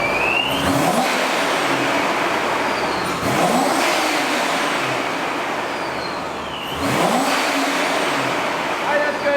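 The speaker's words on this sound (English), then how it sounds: "Can we rev it up again real quick from this angle?" A supercharged Corvette drift car revs hard in repeated bursts, the loud engine note climbing and falling three or four times close by, with people talking underneath.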